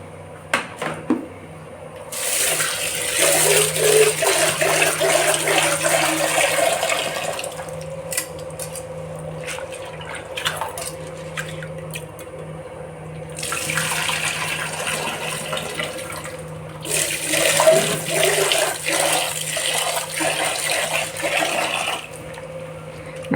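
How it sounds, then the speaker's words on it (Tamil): Toor dal rinsed in water in a home kitchen: two long bursts of running, splashing water with sloshing and a faint clink between them, close and moderately loud. "மூணு வாட்டி அலசிட்டேன், ஊறட்டும்."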